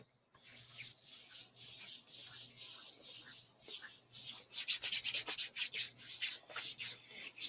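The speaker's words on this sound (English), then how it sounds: "You know it's good when I'm rubbing my hands together." Hands rubbing together briskly at close range, a dry swishing friction in repeated strokes that quicken and grow louder toward the end, with no talking.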